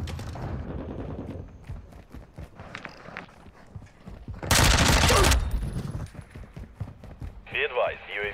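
Gunfire in a Black Ops 6 multiplayer match: a dense loud burst of shots in the middle, with scattered shots around it, under frequent game voice callouts.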